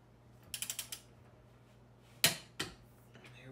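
A torque wrench ratchets on the upper mount nuts of a 10th-gen Honda Accord during an Air Lift suspension install: a quick run of four or five clicks, then two sharper snaps, quiet in between.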